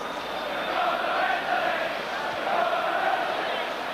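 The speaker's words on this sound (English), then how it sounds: "They're shouting now, we're going to win the league." Everton football crowd at Goodison Park in 1985 chanting in unison against Newcastle, a broad roaring swell of many voices rising and falling in waves, heard from a distance through the stadium atmosphere.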